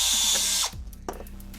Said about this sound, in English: I love these graduated drill bits.